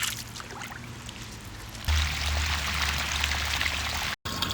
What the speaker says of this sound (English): So I'm just letting some fresh water flow in the top